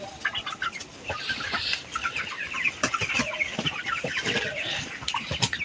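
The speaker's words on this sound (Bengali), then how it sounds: "এখন চটের উপরে মুরগিগুলো রাখছি" Chickens on a farm, kept on jute sacking, cluck and chatter constantly. Several birds call near and far at once over a busy barn hum, with no human voices.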